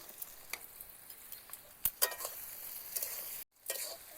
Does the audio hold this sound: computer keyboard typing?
no